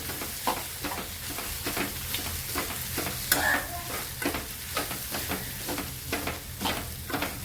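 Soaked poha being stirred and mixed in a pan, rapid repeated scraping strokes over a soft frying sizzle, close and fairly loud, with no talking.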